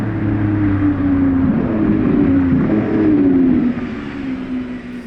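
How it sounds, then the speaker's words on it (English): Lamborghini Revuelto supercar driving inside the factory, a steady close engine drone with a gliding pitch that rises and falls over a few seconds, then eases off slightly. "did you hear the other Revuelto driving here inside the factory?"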